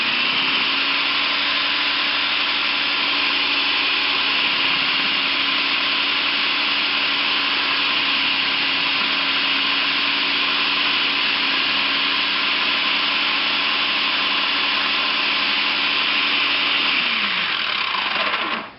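A Black and Decker food processor slicing tomatoes, its motor whirring loud and steady for the whole stretch with a constant tone, then winding down abruptly at the end.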